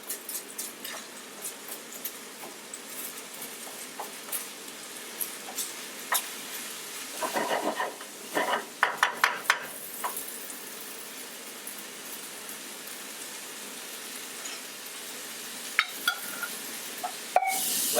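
Risotto being stirred in a pan as it cooks down and starts going dry, with a soft steady sizzle and scraping spoon strokes that come in quick clusters, close and fairly quiet.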